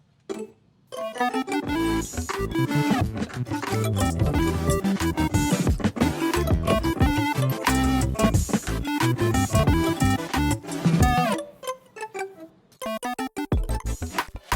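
An Arturia MiniFreak synthesizer track plays through a multi-band compressor, with dense, punchy rhythmic synth notes and beats running steadily, then a brief thinning break before the busy pattern returns.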